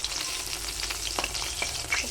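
Koi fish fry in salted oil, giving a brief, steady close sizzle with a few sharper crackles popping through.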